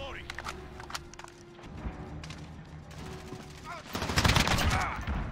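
Gunfire in Call of Duty: Modern Warfare during a night-vision raid match, with scattered shots and bursts, then a louder rapid volley near the end over constant game noise.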